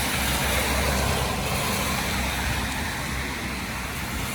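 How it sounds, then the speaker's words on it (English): Rainy street traffic in Hualien, with taxis, cars and a scooter passing on wet roads, makes a steady broadband wash of tire hiss and engine rumble that fades slightly toward the end, with no voices. "you see taxi, you see other cars,"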